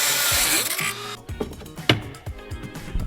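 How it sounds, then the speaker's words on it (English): A Dremel rotary tool cuts into the metal framework behind a VW Caddy R glove box, giving a brief high whine that drops away into scattered clanks, scrapes and handling knocks close by. "I had to get out the Dremel and do a few cuts into the metal framework to make this glove box fit"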